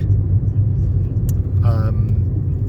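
Inside a car driving through heavy traffic, a steady, loud, low road rumble fills the cabin throughout, with a brief voice-like sound partway through.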